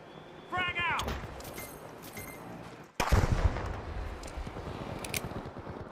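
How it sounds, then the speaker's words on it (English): A frag grenade thrown and bursting in The Finals game, a short metallic toss followed by a loud sudden blast with a rumbling tail among game noise and gunfire. "Tossing a frag."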